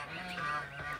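A domestic goose, one of a pair guarding their goslings, gives a single brief, nasal honk up close, its tone wavering and rising slightly against a quiet background.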